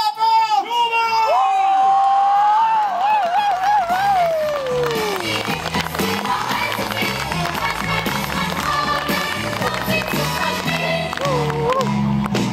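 A large crowd at a medieval market festival cheers and shouts loudly and continuously, with children's shrieks and whoops rising above the din, just before a tarring-and-feathering show.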